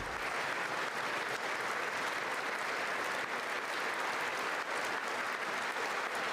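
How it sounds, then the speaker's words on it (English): A large audience applauds at the State of the Union, sustained dense clapping from a big crowd that holds steady throughout. "JD Vance clearly clapped over 100 times."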